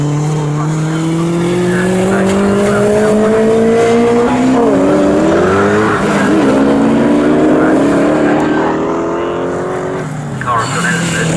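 Sixties historic race cars in a club race at Snetterton roar past in close succession, loud engine notes rising and falling as they shift and pass, with a commentator talking over the track noise.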